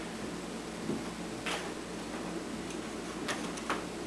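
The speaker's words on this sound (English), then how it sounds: "I think maybe I'm just hearing a little sound from the veneer tape." Veneer tape on a veneered executive desk top making small, sparse clicks and ticks over a steady low hum, a few sharper snaps near the end, quiet and close.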